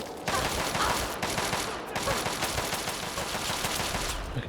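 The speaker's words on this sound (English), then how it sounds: "Now we can get an assault rifle." Assault rifle gunfire in Fallout 3, a weapon in poor condition, firing dense rapid bursts that run nearly continuously, with one short pause, loud and close.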